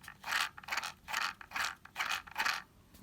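Gears of a Traxxas Slash RC car turned slowly by hand give a soft, close ratcheting whir that swells and fades in six or seven even pulses, with no voices.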